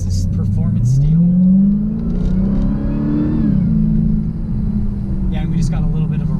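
A 2018 Dodge SRT Hellcat engine revs hard during a short run, its deep rumble climbing in pitch, easing off, then settling to a lower drone, close and loud, with someone talking over it.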